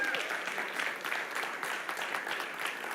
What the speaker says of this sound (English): Give Mohammed another round of applause.